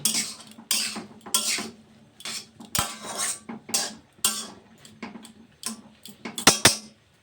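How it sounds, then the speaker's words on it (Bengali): A metal utensil scraping and clinking against a pan while onion is stirred, a series of irregular sharp clatters and scrapes, close and fairly loud. "পেঁয়াজটাকে আবার মিশিয়ে নিচ্ছি"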